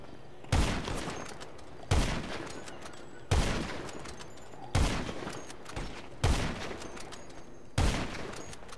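Gunfire in GTA Online during a player-versus-player match: six loud, close bursts spaced about every second and a half, each a sharp crack trailing into a rattling decay.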